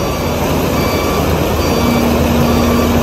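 A ten-wheeler dump truck waits near a bridge while being loaded with rocks, its reversing beeper sounding a steady tone over a loud, constant engine rumble.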